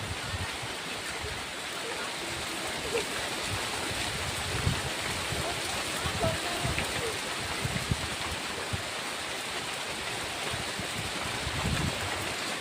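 Steady rain falls in a rural setting, a continuous dense hiss with scattered patters and drips throughout, fairly loud and unbroken, with faint voices underneath.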